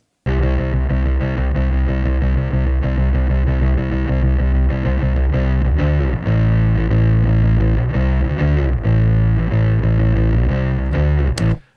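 Electric bass played through an Ampeg amp, captured by three microphones blended together: a dense, loud, continuous run of sustained low notes with a gritty, distorted edge, playing alone with no talk.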